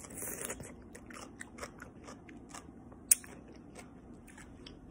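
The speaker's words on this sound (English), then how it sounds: "Y'all hear that crunch?" Someone bites and chews a crunchy Grillo's fresh dill pickle up close, with a series of soft wet crunches and one sharp snap partway through, quiet and steady.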